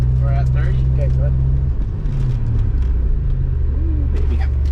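Steady low car rumble from inside a moving supercharged Pontiac Bonneville SSEi with a Cadillac ATS big brake kit, the engine note dropping as it brakes hard from about 30, with voices talking over it.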